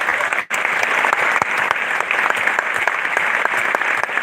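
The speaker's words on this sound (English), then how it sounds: "For all, one round of big rounds of applause." An audience at a university prize distribution ceremony claps steadily, a dense, loud round of applause that continues without a break after a brief dip at the start.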